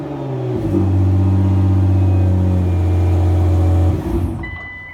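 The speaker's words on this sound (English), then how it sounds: "If the code is correct, the car will start." A 2009 Nissan GT-R engine turns over and starts close by, holding a loud, steady mechanical hum for about three seconds before dropping away sharply.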